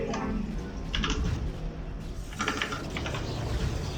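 Rapid, uneven tapping of keys on a computer keyboard, fairly faint, in bursts over a low background rumble, during a StarCraft game.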